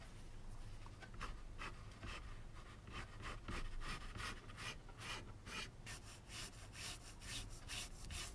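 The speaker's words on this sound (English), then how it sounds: "A bit more planing, and we've got two completed wings" A hand plane shaves wooden guitar wing boards in a steady run of rhythmic rasping strokes, close and fairly loud, repeating throughout with no talking.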